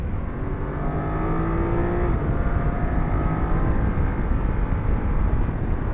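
A BMW F900GS motorcycle engine roars continuously under load through mountain corners at Mount Charleston, rising in pitch as it accelerates, loud and close with rushing wind noise throughout.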